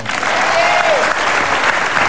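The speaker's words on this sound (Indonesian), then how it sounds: "Tepuk tangan" Studio audience applause on an Indonesian television talk show, a loud burst of many hands clapping at once, steady and close, with a brief whistle-like tone and faint voices under it.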